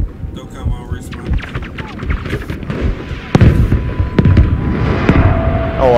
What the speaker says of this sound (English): The red building's about to come down.